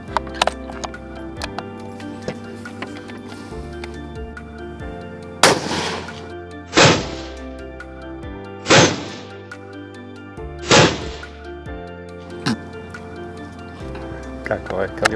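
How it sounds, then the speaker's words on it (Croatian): Rifle shots fired at a large target 90 metres away outdoors during summer predator control, four loud sharp reports spaced a couple of seconds apart with short decaying tails. "Kako ovaj kalibar lepo puca."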